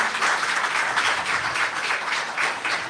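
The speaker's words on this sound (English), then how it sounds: "Please don't stop clapping until she takes her seat." Audience applause welcoming a guest onto the stage at a conversation event: steady, dense clapping from a crowd that holds at an even level for about three seconds with no voices over it.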